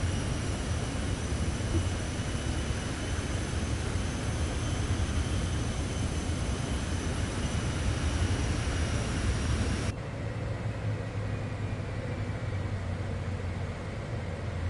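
A Citation X business jet in Microsoft Flight Simulator 2024 gives a steady, loud engine roar with a whining hiss on top; the level drops abruptly near the end and continues as a lower, duller hum.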